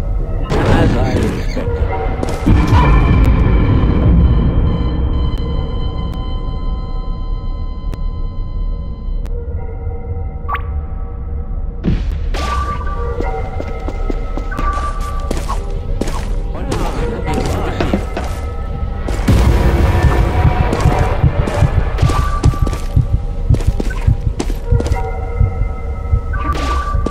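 Gunfire in an Xbox video game, with repeated booming shots and bursts over a constant humming game soundtrack with tonal notes, loud and close throughout.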